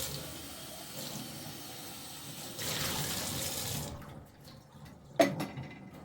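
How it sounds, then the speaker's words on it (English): Warm tap water splashes steadily while an old 1930 baby formula can is rinsed out, the flow stopping partway through, followed by a quieter pause and a sharp clunk near the end. "Super easy to clean out with warm water."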